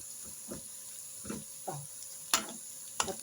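Garlic fries in a pan for koshari's dakka sauce while being stirred, giving soft intermittent sizzles and scraping stir sounds at a low, close level.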